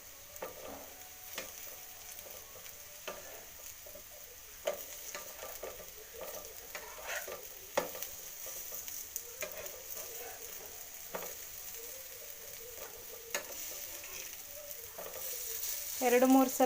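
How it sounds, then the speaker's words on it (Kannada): Raw banana slices fry and sizzle in a pan over a low flame, with steady crackling throughout and occasional scraping clinks as the pieces are flipped, growing louder near the end. "ಎರಡು ಮೂರು ಸಲ ಹೀಗೆ ಮಗ್ಸಿ ಹಾಕ್ಕೊಂಡು ಬೇಯಿಸ್ಕೊಳ್ಳೋಣ."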